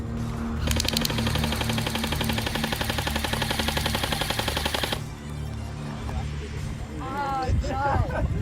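An airsoft gun fires a rapid, sustained burst of shots at a group of people for several seconds, close and loud, followed by scattered pops and people talking and reacting.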